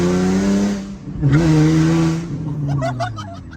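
An Infiniti G37 fitted with a Tomei ExpremeTi exhaust and test pipes revs hard nearby, a loud rising and falling engine roar with a second blip, close and dominant.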